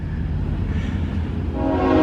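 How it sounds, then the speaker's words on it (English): A train rumbles past in rural Louisiana, a steady low rolling drone close by, with faint tonal horn-like lines rising toward the end. "I'm trying to see where that train is."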